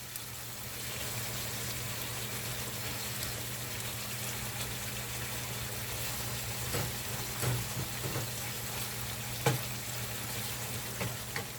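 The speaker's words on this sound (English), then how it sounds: "get the onions sauteing, and flip the chicken back to its original side so the seasoning sautés on both sides with the onions" Onions and seasoned chicken thighs sautéing in a pan over medium heat for a stir fry, giving a steady, even sizzle with a low hum beneath and a few soft clinks and stirring bumps near the end.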